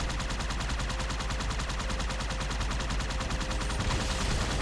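Sustained rapid gunfire in Halo 2 Anniversary, a fast, even stream of shots running the whole time at steady, fairly loud level, with no talk over it.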